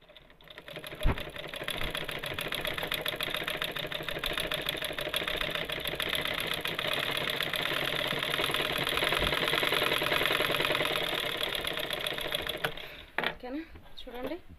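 Sewing machine stitching a dress, a fast steady run of needle strokes that starts abruptly and holds for several seconds before stopping, close up, with someone talking at times.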